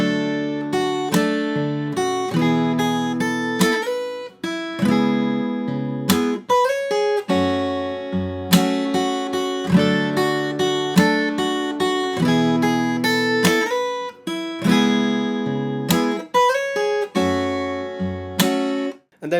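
Fingerstyle acoustic guitar plays the first half of a song's chorus, plucked bass notes and melody ringing together in a flowing, steady rhythm, close and full for nearly twenty seconds with no speech.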